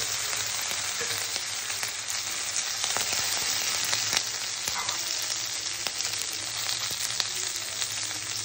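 Steady, dense sizzling of spices and curry leaves frying in hot oil for tempering, continuous and close, with occasional sharp crackles and pops throughout.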